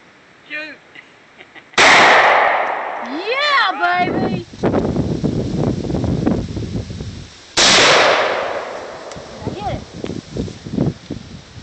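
Gunshots fired outdoors at a Dr. Pepper can, two loud sharp cracks several seconds apart with wind noise and people talking between them.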